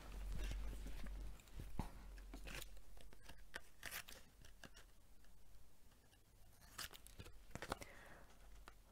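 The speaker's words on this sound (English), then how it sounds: "And we'll just trim round." Scissors trimming around a paper tag give faint, quiet snips and soft tearing crackles in a sparse, uneven rhythm, heard close with nothing else around them.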